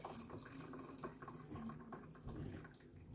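Water is poured by hand from a pint container in a home garden, a soft, steady splashing and trickling that runs continuously at low volume.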